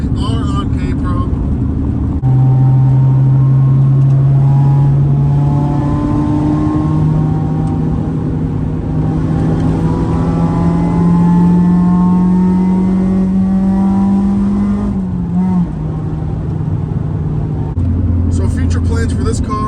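A Honda K24A engine in a JDM EP3 car with a header and full exhaust pulls hard under acceleration, its steady rising drone climbing in pitch over most of the run and then easing off, heard from inside the cabin.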